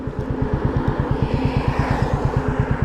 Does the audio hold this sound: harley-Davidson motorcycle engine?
yes